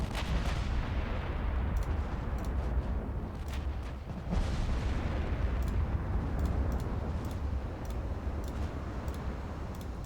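Battleship main guns with 14-inch shells firing in the naval game World of Warships, heard as heavy booming salvos over a continuous deep rumble with sharp cracks repeating throughout.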